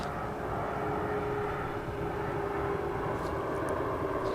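An airliner touching down on a runway at DFW Airport, heard as a steady, moderately loud jet engine roar from a distance with a continuous drone and no talk.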